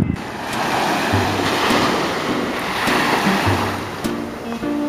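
Ocean surf washing onto a white sand beach at Pensacola, a continuous loud rush of breaking waves with gusty wind buffeting the microphone, no voices.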